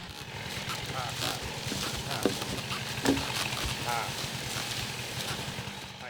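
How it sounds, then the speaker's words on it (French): An Ardennes draft horse works at log skidding in a forest, its hooves thudding faintly and irregularly beneath steady close conversation and outdoor background noise. "c'est un cheval de trait ardennais, belge, que j'ai acheté en Belgique à 5 ans"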